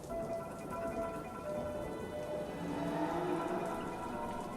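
Thunderstorm ambience playing under a tabletop fantasy game session, steady rain pattering on surfaces with a low rumble of distant thunder swelling in the background, continuous and fairly quiet.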